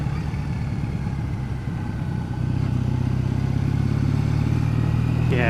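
A 2014 Triumph Bonneville motorcycle rides in second gear with a steady, throbbing mid-pitched engine note, close and continuous, the pitch lifting slightly partway through as the throttle opens.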